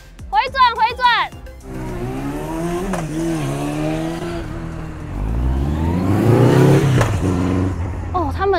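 A heavy 1100cc motorcycle revs at a roadside stop in Yilan, Taiwan, with a sharp rev at the start and a deeper, louder surge of engine roar near the end, while another engine drones steadily in between.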